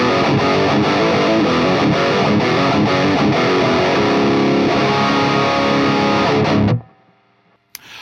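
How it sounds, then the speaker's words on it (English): A Peavey Rockmaster electric guitar plays heavily distorted, dense riffs through an EVH 5153 head on channel 3, loud and continuous for nearly seven seconds before cutting off to near silence. "All right, so let's get into some dirty tones."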